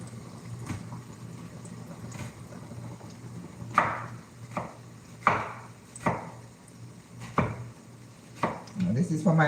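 Onions dropped into a cooking pot for soup, landing in a series of sharp, fairly loud knocks and thuds spaced a second or so apart over a low background hum, with no talk over them.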